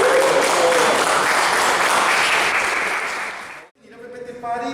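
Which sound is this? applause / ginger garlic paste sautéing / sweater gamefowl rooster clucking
applause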